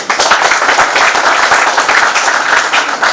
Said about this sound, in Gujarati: તજજ્ઞશ્રી માટે ખૂબ તાળીઓ થઈ જાય